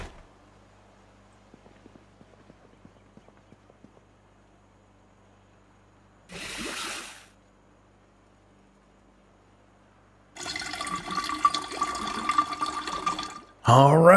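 Water fills containers in the survival video game Project Zomboid, heard as bursts of rushing, hissing water separated by near silence, with a louder stretch toward the end.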